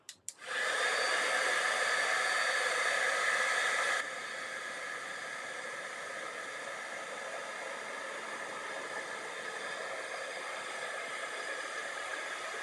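A handheld heat tool blows hot air to melt silver embossing powder, a loud steady whooshing hiss that starts abruptly and drops to a slightly lower, constant roar partway through, with no talking.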